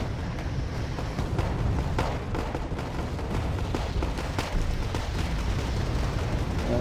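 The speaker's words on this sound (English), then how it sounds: "Rocket arty on them" Rocket artillery salvos in Wargame Red Dragon give a continuous run of sharp booms and bursts of varying loudness over a dense rumbling battlefield bed, with no talk.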